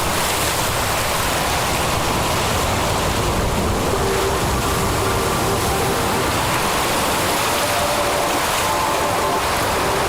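Water rushes in a constant, loud wash of broadband noise, like a stream or river flowing, with faint tonal traces underneath and no voices.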